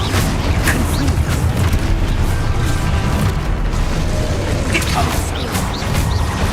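A Confringo spell explodes in the video game Hogwarts Legacy with a loud, dense, rumbling blast. Mechanical clatter and creaks continue without a break, and scattered pops stand out on top.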